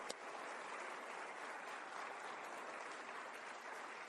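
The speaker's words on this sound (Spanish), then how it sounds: "denle un aplauso al Señor" A church congregation applauds during a sermon, a continuous, even roar of many hands clapping that holds at a steady level throughout and sounds somewhat distant.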